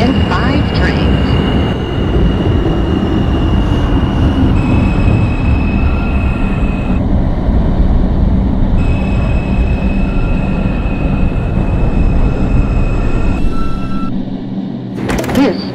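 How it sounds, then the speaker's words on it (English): A Manhattan-bound New York City Subway 2 train in the OpenBVE simulator game rumbles loudly along the track with a continuous roar, steady tones from the train, and a squeal near the end, while an onboard announcement voice speaks over it. "This is a Manhattan-bound 2 train."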